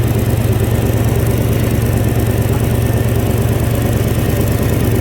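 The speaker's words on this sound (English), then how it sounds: "Sounds like we got an exhaust leak here." Idling 2004 Toyota Tundra with a 4.7-litre engine and an exhaust leak at a gasket, giving a steady, close, loud low rumble with a fast ticking pulse throughout and no voices.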